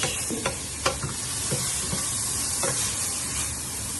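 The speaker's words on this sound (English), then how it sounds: "So now we're going to saute our veg." Vegetables for a scrambled tofu dish sauté over a high flame, a loud, close sizzle with intermittent clacks of a stirring utensil against the pan.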